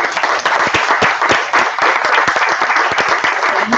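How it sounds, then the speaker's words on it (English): At a graphic design lecture, an audience applauds with a dense burst of clapping. Individual sharp claps stand out through the whole stretch at a steady level. "a big round of applause"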